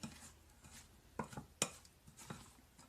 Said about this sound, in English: I'm going to go on and get this stirred up with the spoon